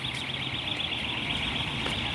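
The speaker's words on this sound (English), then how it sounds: "And you're also going to get some horrible alarm noise coming through." A harsh electronic alarm from a Pokémon GO live stream drones steadily in the background throughout, a continuous high-pitched tone layered over a low hum at a moderate, even level.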